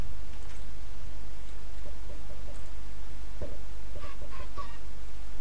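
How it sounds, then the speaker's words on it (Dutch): Chickens clucking in the video game Minecraft, a few short, soft clucks scattered over a steady low background hum, with a brief cluster near the end. "Ach, ik hoor kip."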